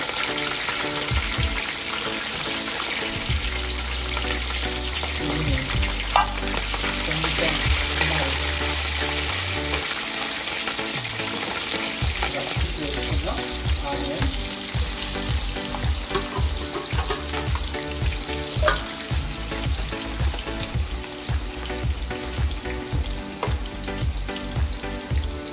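Dried red chillies crackle and sizzle in hot oil for a vegetable dum biryani, with a loud, continuous frying hiss and repeated scraping stirs of a spoon against the pan across the whole stretch.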